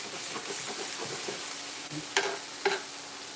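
Potatoes and corn frying in a pan, a steady close sizzle with scraping stirs, and a couple of sharp clinks of a utensil against the pan near the end.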